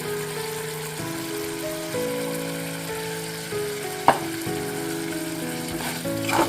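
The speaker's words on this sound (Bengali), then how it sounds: "এবারে আমি এর মধ্যে কাজু বাদামের যে পেস্টটা বানিয়েছি কাজু বাদাম টমেটোর পোস্ত ওই পেস্টটা দিয়ে দিচ্ছি" A paste of cashews, tomato and poppy seeds frying in a pan, with a continuous sizzling hiss under steady background music and one sharp utensil knock.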